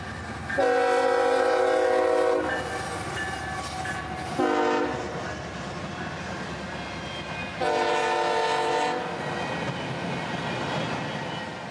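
A southbound freight train bound for Jacksonville passes, its horn sounding in three loud blasts, long, short, then long, over the steady rumble and rolling clatter of the cars.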